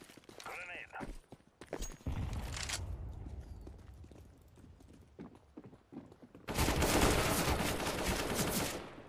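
Video game gunfire crackles in short bursts, with dense loud rapid firing building in the final seconds, while players talk over the action.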